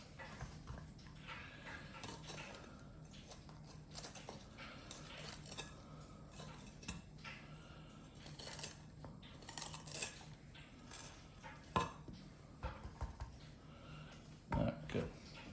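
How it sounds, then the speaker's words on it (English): A knife scrapes and clicks as it cuts around a pepper's seed pod on a board, faint intermittent taps and scratches with a few louder knocks, quiet throughout. "we'll take our knife and go in there and cut around"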